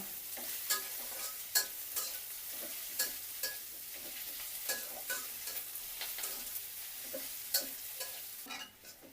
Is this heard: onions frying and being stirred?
yes